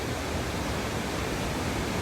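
A waterfall pours in a steady, even rush of water, a continuous broad roar with no pauses and no voices over it.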